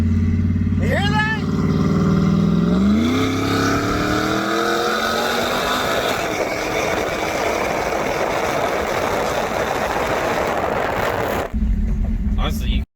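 A car with a 5.7 Hemi V8 roars hard under full acceleration, its engine note sweeping upward through gear pulls, loud and close from inside the cabin, ending in a steady high drone before a sudden cut.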